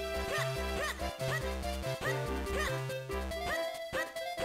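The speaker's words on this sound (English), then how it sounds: "No, no. Get out of the way, dog!" A dog barks repeatedly in a video game, its yips and bow-wows set over steady game music with a bouncing bass line; the barks come in short bursts throughout, fairly close and clear.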